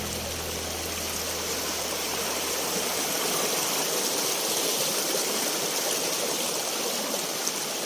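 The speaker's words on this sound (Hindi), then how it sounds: "बर्फीली झाड़ियों से होते हुए एक बार फिर से मैं आ गया हूँ नदी में" River water rushes steadily over stones amid snowy brush in the Uttarakhand hills, a broad continuous flowing roar close by with no talking.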